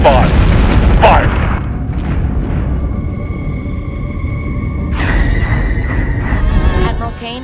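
Warship guns fire in a Battlestar Galactica: Deadlock space battle, with loud booming blasts up front followed by a sustained tonal hum and rumble.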